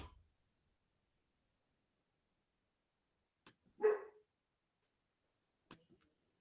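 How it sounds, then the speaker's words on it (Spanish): A dog barks at the neighbor in one short, sharp burst at mid-distance, preceded and followed by faint clicks and brief noises in an otherwise quiet room. "el caos canino que mi perro decidió ladrarle al vecino"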